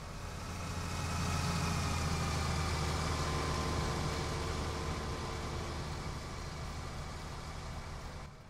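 A tractor engine idles in the video game Farming Simulator 19, a steady low rumble with a faint hiss that runs evenly for about eight seconds, with no talk.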